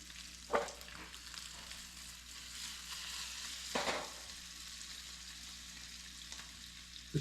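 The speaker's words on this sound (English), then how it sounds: "we'll let the bacon render off" Bacon renders in a pan with a constant crackling sizzle, punctuated by a few sharp pops and spatters, close and moderately loud with no talking.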